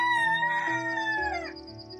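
Rooster crows once in the Hearthlands video game, a loud, drawn-out cock-a-doodle-doo that falls in pitch at the end over soft game music.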